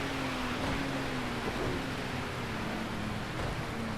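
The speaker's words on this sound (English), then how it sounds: "Fog with Rain." Rain in a racing video game with GT3 cars on a foggy track, a steady dense hiss of falling rain under a low engine drone throughout, no talk.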